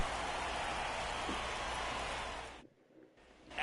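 Heavy rain pours down on a baseball stadium in MLB 24 as the tarp goes on the infield, a dense steady hiss that cuts out briefly near the end before rising again.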